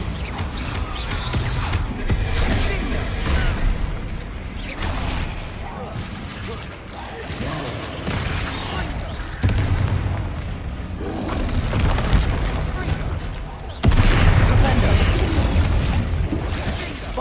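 Repeated spell blasts in Hogwarts Legacy, Bombarda explosions mixed with other combat spells: booming thuds and crashes over a dense, loud battle soundscape with music, strongest bursts near the end.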